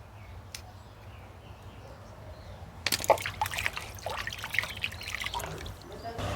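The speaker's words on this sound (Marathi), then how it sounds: "हे आंब सगळं मी स्वच्छ धुवून असं ह्याचा चिक काढून" Mangoes are washed in water to remove their sap, starting with quiet trickling, then louder splashing, dribbling and sloshing as the fruit is handled, close by.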